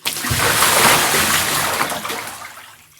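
A sudden loud splash of liquid, followed by sloshing and splattering that gradually fades away.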